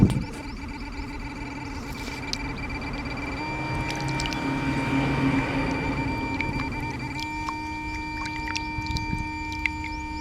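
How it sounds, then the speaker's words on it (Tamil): A metal detector left sitting in one spot during underwater treasure hunting gives off a steady, sustained electronic drone with layered pitches that holds unbroken throughout, with a few faint clicks on top. "மெட்டல் டிடெக்டர் ரொம்ப நேரம் ஒரே இடத்துல இருந்தால் இப்படி தான் சவுண்டு போட ஆரம்பிக்கும்"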